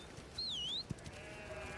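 One sheep lets out a short wavering bleat at moderate distance while working dogs herd the flock. A thump follows, then quiet outdoor ambience.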